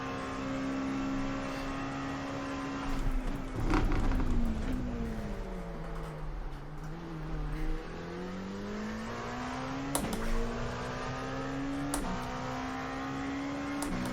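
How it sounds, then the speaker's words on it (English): A racing engine of an LMP2 prototype car heading downhill at the Red Bull Ring in iRacing, a steady loud drone whose pitch sweeps down and back up, with a brief louder burst midway and sharp clicks late on. "You can see another LMP2 car going down the hill"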